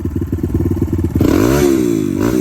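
A Kawasaki KLX150 motorcycle engine, converted from carburetor to fuel injection, idles with a rapid putter, then revs up sharply into a rising, roaring whine close by, dipping and climbing again.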